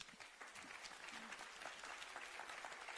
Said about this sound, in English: you're earning the first applause of the afternoon.